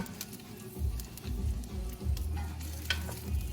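Meatballs searing on a stovetop until crispy, a steady close sizzle and crackle of frying with light stirring scrapes, continuous and fairly loud with no one talking.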